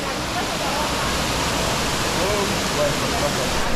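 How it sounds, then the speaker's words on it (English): Cold river water at Fish Dunn Falls in Portland, Jamaica rushes in a loud, unbroken roar, close and steady, with a voice faintly present beneath it. "Cool river water, real river water this."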